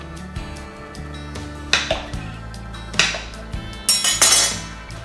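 A knife cuts through ripe plantains against a board, making a few sharp clicks and taps spaced a second or so apart over a steady low background hum.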